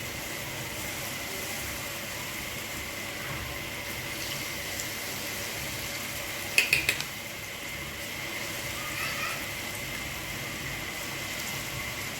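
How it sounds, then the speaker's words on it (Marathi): Soaked chana dal fritter batter frying in hot oil in a kadhai on low heat, a steady close sizzle throughout with a brief clatter of utensils midway. "आपल्याला मिश्रण जे एकत्र केलेलं आहे ते तेलात सोडायचं आहे"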